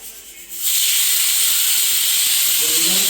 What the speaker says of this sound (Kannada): ಇಲ್ಲಿ ಎರಡನೇ ವಿಸಿಲ್ ಇದು. ಇದು ರೊಟೇಟ್ ಆಗ್ತಿದೆ ನೋಡಿ.